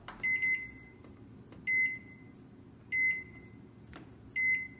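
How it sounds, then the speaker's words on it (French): A microwave oven heating a bowl of macaroni for one minute, its low steady hum broken by four evenly spaced pairs of short, clear beeps, close and alone. "Maintenant, on le met au micro-ondes 1 minute."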